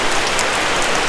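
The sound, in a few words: rain falling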